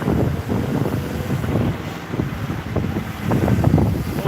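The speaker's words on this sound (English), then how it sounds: "Noisy and windy." Wind buffets an outdoor microphone in gusty, uneven bursts of low rumbling noise, close and fairly loud, with no voices.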